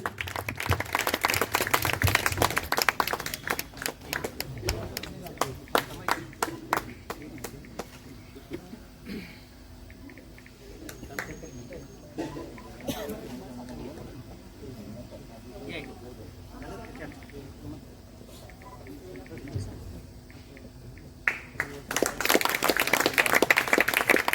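Audience applause at a book launch ceremony, clapping swelling loudly at the start and again near the end, with quieter scattered clapping and talk in the middle stretch.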